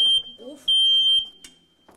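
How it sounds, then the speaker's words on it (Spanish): A smoke detector sounding its test beep right after a battery is fitted: two loud, piercing high-pitched tones, each about half a second, with brief handling clicks between them. "ese pitido da cuando detecta que hay humo"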